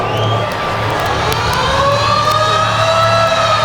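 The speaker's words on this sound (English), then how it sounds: "Now Tom Carter, as the siren sounds" A loud, sustained stadium siren ending a wet night rugby match wails over crowd noise, holding a steady tone for several seconds.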